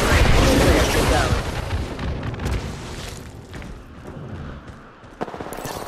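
Heavy gunfire and booming blasts in a video game battle, dense and loud at the start with rapid bursts, thinning to scattered shots, then a sharp impact near the end, close and intense.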